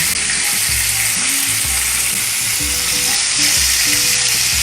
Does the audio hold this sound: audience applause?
no